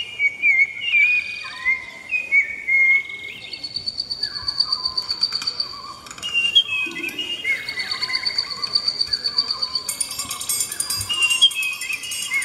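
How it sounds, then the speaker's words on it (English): Jungle birds in Rio, Brazil, chirp and whistle in bright, repeated calls over a soft insect buzz, with overlapping tweets continuing throughout and no talking. "I definitely hear the birds chirping."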